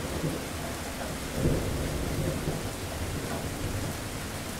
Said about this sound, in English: as you begin to tune in and listen to the storm.